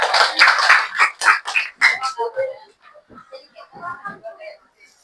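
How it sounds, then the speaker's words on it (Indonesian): A middle-school class claps hands together in a few quick bursts at the start, followed by a teacher speaking over the fading room. "tepuk tangan dulu"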